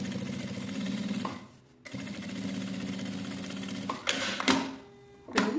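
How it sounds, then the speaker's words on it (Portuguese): A domestic sewing machine topstitches a fabric clutch bag in steady, fast stitching runs, stopping briefly twice, with a few close handling knocks at the end. "E agora nós vamos fazer a costura de pesponto"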